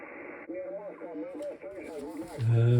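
A 10m-band amateur radio receiver tunes across the bands, with a steady hiss, then warbling, sliding heterodyne tones and garbled sideband voices, ending in a loud low buzzing carrier.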